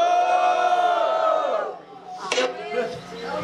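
A crowd at a rap battle final roars and shouts in a loud sustained cheer that fades, then bursts again briefly, with an announcer's voice heard at the start.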